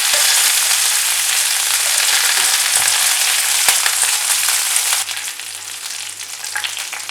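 Peanuts and curry leaves frying in hot oil for mango rice, a steady, loud, close crackling sizzle that eases slightly in the final seconds, with a low hum beneath.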